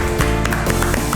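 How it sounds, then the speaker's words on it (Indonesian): Children clap their hands at a Sunday children's worship service, a steady run of close, loud claps over a busy musical background, with voices mixed in. "Tepuk tangan buat Tuhan Yesus adik-adik."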